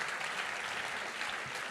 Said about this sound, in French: Évidemment, on peut applaudir.